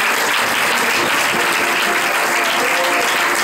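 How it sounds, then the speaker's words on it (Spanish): A church congregation breaks into steady, loud applause. The clapping is dense and sustained, with no voices rising above it. "Le da un aplauso al Señor"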